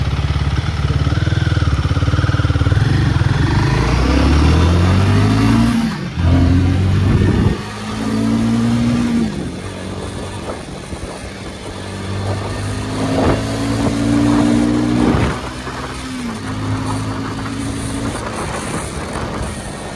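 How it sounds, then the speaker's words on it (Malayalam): A Royal Enfield Guerrilla 450 scrambler motorcycle accelerating hard from standstill to 100, loud close engine roar rising through several gear changes with brief dips between shifts, then a steadier high-speed drone. "ഗൊറില്ലയുടെ ജസ്റ്റ് ഒരു 0 to 100 നോക്കാം"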